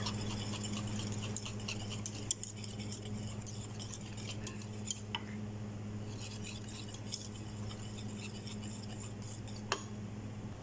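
Chicken and rice being mixed with sauce: quiet, soft scraping and stirring with sporadic light clinks of a utensil against a dish, over a low steady hum, close and faint.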